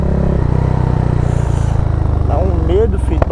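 A 470cc motorcycle engine drones loud and close, rising in pitch as it revs during a wheelie attempt, with a sharp clack near the end.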